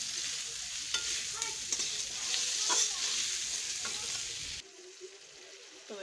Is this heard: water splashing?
no